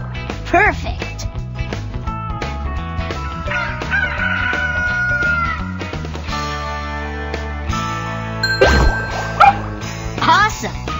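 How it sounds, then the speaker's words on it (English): A cartoon chicken clucks and a rooster crows in the Bubble Guppies video game, set against bouncy game music and sound effects. A voice chimes in briefly. "Chicken."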